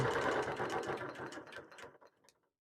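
A sewing machine stitches rapidly and steadily while ruler quilting a panel, its even mechanical rattle running close and clear before slowing and stopping near the end.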